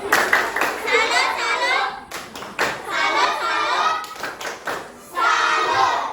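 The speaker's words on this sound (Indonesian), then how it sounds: "Kita berikan tepuk salut untuk diri kita masing-masing" A classroom of children performs a patterned 'tepuk salut' clap, sharp group claps in a rhythmic sequence with brief pauses, mixed with children's voices chanting along.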